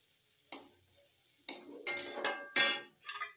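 A spoon scrapes and clanks against a pot while potato vegetable curry is stirred, giving several sharp metallic strikes and scraping bursts at irregular intervals, close and fairly quiet with silence between them.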